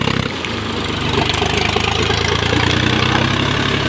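A farm tractor engine runs steadily nearby after hauling sugarcane, a loud continuous low rumble with a faint knocking pulse that builds slightly after the first second.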